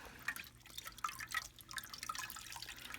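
Water drips from a dyed zinnia flower being rinsed in clear water, a faint patter of small irregular drips and trickles close by.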